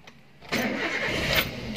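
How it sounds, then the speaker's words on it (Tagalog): Starter motor on a Toyota Avanza with a faulty bendix drive, a short burst of cranking that rises abruptly and holds steady for over a second, close and fairly loud. "Ang starter Toyota Avanza."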